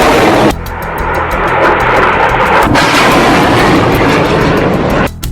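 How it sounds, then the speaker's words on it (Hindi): Rockets fired by Hamas one after another in rapid succession, a loud, dense roar of launches with sharp repeated blasts, continuous and overwhelming with no voices. "हमास एक के बाद एक 10 रॉकेट फायर करता है और फिर इजराइल के शहर टारगेट बन जाते हैं।"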